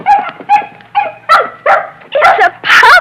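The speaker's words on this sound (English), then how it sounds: "It's a puppy. A little white puppy." A little white puppy in a 1950s radio drama yips and whimpers, then breaks into a series of short, loud barks, six or seven bursts close to the mic with no talk over them.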